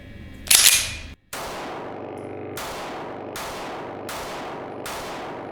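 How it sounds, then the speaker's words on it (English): Five pistol shots from a Sig P365 X-Macro fired outdoors at a range, one sharp loud report followed by four more evenly spaced cracks with ringing decay, no talking. "I'm going to take 5 shots"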